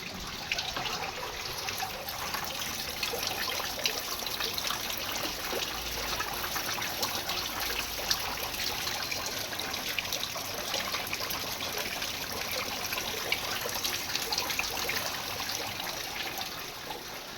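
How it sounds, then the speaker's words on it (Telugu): Steady heavy rain pours down continuously, a dense, even hiss of falling water and runoff with no pauses, close and fairly loud throughout, with no voices. "పొద్దున 4 గంటల నుంచి వాన పడుతూనే ఉంది."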